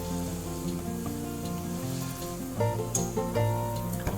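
Hotteok, Korean sweet filled pancakes, frying in a shallow layer of oil give a steady soft sizzle, close up, under a background of music, with no talking.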